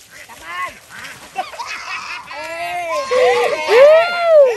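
Ducks quack repeatedly and loudly nearby as people catch them, calls overlapping and growing busier, with people talking in Thai among them.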